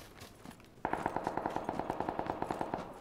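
Automatic gunfire in a PUBG match: after a short quiet lead-in, a steady rapid burst of shots rattles on for about two seconds, loud and close with an even rhythm.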